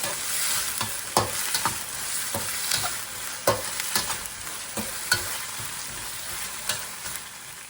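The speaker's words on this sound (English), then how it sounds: "Stir it well." Rice vermicelli with shrimp being stir-fried Malaysian style in a pan, a steady sizzle of frying broken by sharp, irregular scrapes and clacks of the utensil tossing the noodles, close and fairly quiet, with no talking.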